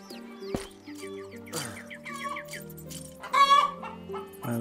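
Chickens cluck in the Animal Rescuer video game, a run of short, moderately loud clucks and squawks with a sharper burst near the end, no talking.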